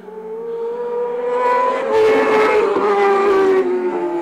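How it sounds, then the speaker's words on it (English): A superbike in a club race bounces off its rev limiter, the engine holding a high strained whine that stutters and cuts repeatedly as it passes close by, loud and alone without voices. "Ed slowly pulling away as Bryce hits the rev limiter"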